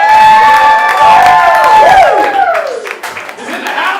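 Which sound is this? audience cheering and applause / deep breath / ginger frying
audience cheering and applause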